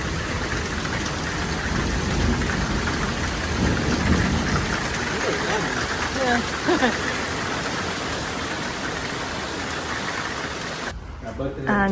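Rain pours steadily during a thunderstorm in Positano, with low rumbling thunder rolling through the dense hiss of falling water, and a voice can be heard faintly under the downpour.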